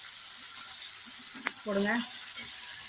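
Curry leaves go into hot oil in a pan for a fish curry, giving a steady low sizzling hiss with a brief sharp pop; a voice speaks briefly over the frying.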